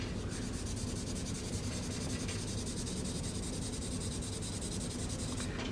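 Pencil shading steadily blocking in value on a one-point perspective drawing: a continuous dry scratchy rubbing of graphite on paper, close and even, with fast back-and-forth strokes running throughout.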